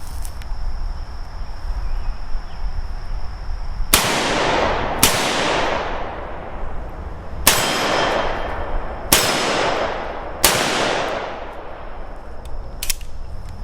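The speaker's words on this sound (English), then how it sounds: "All right, first shots." Several loud rifle shots from a CZ Bren 2 MS at a shooting range ring out one after another with irregular gaps, each a sharp crack with a long ringing decay, close to the listener and with no talk.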